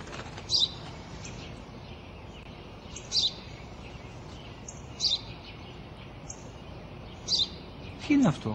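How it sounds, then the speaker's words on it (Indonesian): A sparrow gives single sharp chirps at regular intervals, five in all, in a film clip played in a quiet room, with a faint murmur at the end. "Itu burung gereja."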